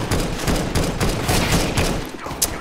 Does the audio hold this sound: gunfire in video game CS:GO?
yes